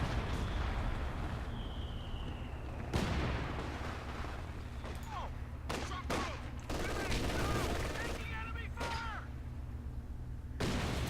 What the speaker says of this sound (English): Is that major artillery? Oh, it is.